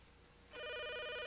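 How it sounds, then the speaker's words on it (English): After a short quiet moment, a telephone starts ringing with a steady electronic bell tone that continues to the end at modest volume. "That phone is still ringing."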